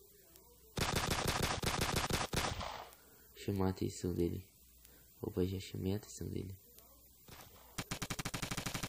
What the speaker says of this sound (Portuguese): Ouvi tiro, mano.